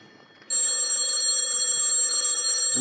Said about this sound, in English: Telephone's ringing, Danny.